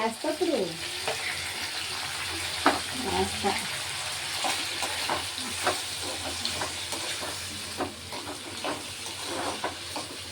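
Tomatoes fry in oil for tomato chutney, with a steady sizzle broken by frequent clicks of stirring, while voices talk briefly near the start.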